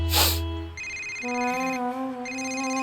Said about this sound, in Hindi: यिल्दिज़ का फोन है।